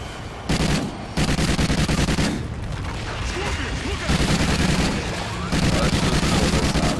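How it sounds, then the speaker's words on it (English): Pistol and automatic gunfire in the co-op shooter Call of Duty: Ghosts Extinction on the Nightfall map, bursts of loud rapid shots in several sustained volleys with brief gaps, mixed with game effects and booms. "Take a lot of damage from this pistol."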